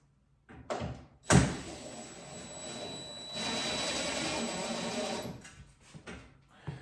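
Power driver whirring as screws go into the wall jamb of a glass sliding bypass shower door, a sustained close motor hum preceded by a sharp knock, heard alone.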